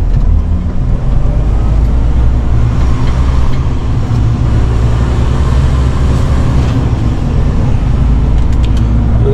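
A car drives along a road toward Idar-Oberstein with its steering acting up, giving a loud continuous low rumble of engine and tyre noise heard from inside, steady for the whole stretch, with no talk.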